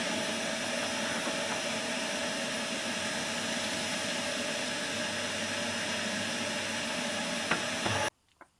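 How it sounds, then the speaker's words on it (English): Vacuum cleaner running steadily, cleaning dust out of an Outbacker Firebox stove, a loud constant whooshing roar lasting several seconds before it cuts off abruptly, followed by a couple of faint knocks. "Trusty vacuum cleaner on."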